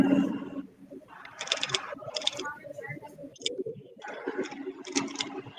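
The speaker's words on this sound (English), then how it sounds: "Something sounds like typing." Quick, irregular tapping clicks like typing on a keyboard, fairly soft, with a low murmur of background voices.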